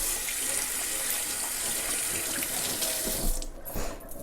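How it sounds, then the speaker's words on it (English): Water runs steadily from a tap as hands are rinsed of salt at a kitchen sink, a constant close splashing hiss that shifts briefly near the end. "so I'm going to rinse my hands off."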